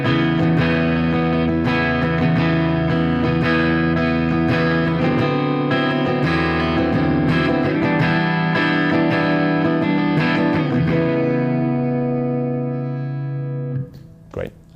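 A Randall Thrasher amp head with its bright switch disengaged sounds out as a sustained, driven electric guitar riff with strummed chords and ringing notes, loud and steady, fading near the end with a brief final hit.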